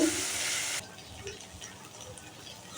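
Vegetables frying in oil in a wok with black cumin seeds: a loud steady sizzle that drops abruptly to a soft low hiss and faint crackle.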